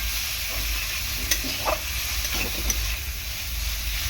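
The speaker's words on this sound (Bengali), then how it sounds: "চিংড়ি মাছ দিয়ে ভালো করে কষিয়ে নেব।" Prawns stir-fry in spice masala in a pan, giving a steady, close sizzle broken by occasional scraping stirs.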